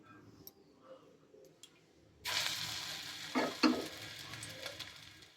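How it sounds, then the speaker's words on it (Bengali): Besan-battered flowers drop into hot oil in a kadai, setting off a sudden loud sizzle that carries on steadily with a few sharp crackling spikes, after some quiet clicks at the start. "অল্প বেসন দিয়ে এই যে ভেজে নিচ্ছি"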